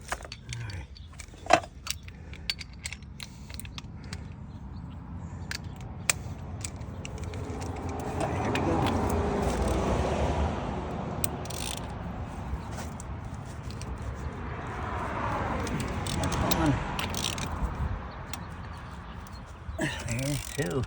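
A socket wrench on an extension works loose tight wheel nuts, giving metallic clicks and clanks with clanging tool sounds and rising grinding effort in the middle, up close.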